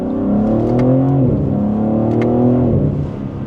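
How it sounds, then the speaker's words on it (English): A loud 2027 BMW M3 with a 3-liter twin-turbo inline six revving up close, its pitch climbing steadily, dropping briefly at a gear change, then rising again before easing off. "We have a 3-liter inline 6-cylinder twin turbocharged engine with 523 horsepower."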